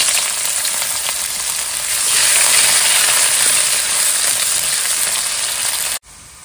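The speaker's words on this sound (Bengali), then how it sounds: "কড়াইতে তেলও দিয়েছি, গরম হয়ে গেছে। এবার দিয়ে দেবো পেঁয়াজ কুচি" Chopped onions sizzle loudly in hot oil in a pan, a steady dense crackle that swells after being added and runs on without a break before cutting off abruptly near the end.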